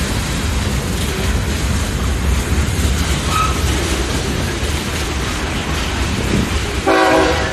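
A freight train rumbles past, loud and close, its wheels and cars grinding steadily. Near the end a brief blast of the train horn sounds over the roar. Nobody speaks.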